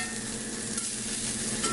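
Pasta being twirled in a pan with a little bacon fat for carbonara, a soft steady sizzle with quiet stirring movement, close and continuous, no voices.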